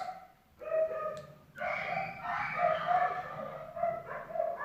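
A dog barks and yips in a short series of tonal, whining barks, fairly close but moderate in level, against a quiet indoor background.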